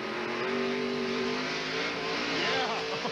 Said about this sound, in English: There's that gas pedal, trying to keep that car straight and trying to beat Ernie Irvan to the line all at the same time